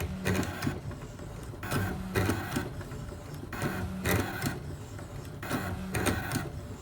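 Brother ScanNCut cutting machine testing the media on its mat and cutting a stencil, a rhythmic series of motor whirs and clattering carriage passes repeating about every second, close and steady.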